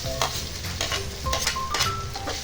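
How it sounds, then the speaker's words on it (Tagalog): Ginger sautés in a pan, an even close sizzle with repeated quick stirring scrapes of the spatula. "At igisa rin nating maigi"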